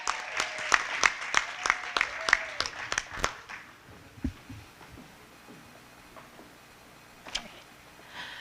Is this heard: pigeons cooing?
no